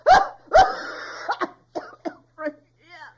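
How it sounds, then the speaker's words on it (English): A few harsh, close coughs followed by smaller throaty coughs and breathy throat-clearing sounds, trailing off into quieter rasps. "I start coughing up phlegm"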